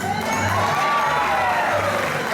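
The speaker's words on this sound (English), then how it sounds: "A big round of applause for Cujo!" A crowd cheers and shouts with children's voices mixed in at an outdoor bird show, greeting Cujo the black vulture on stage, a sustained bright roar of excitement with no talking over it.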